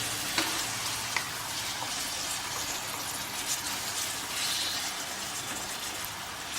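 Chopped onion frying in hot ghee or oil gives a constant close sizzle with light spattering pops, steady throughout without any voices.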